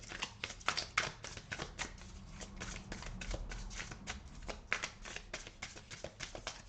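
Tarot cards are shuffled and drawn by hand, giving a dense run of rapid papery flicks and riffles, close and continuous, with no voice over them.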